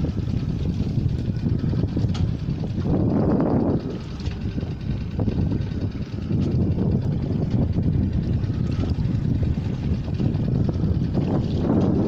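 A sailing boat's engine runs steadily against the tide near a wind farm, a continuous low rumble mixed with wind buffeting the microphone throughout.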